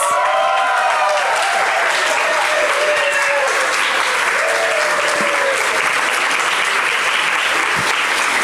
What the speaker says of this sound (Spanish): esos fueron aplausos anticipados para Rodolfo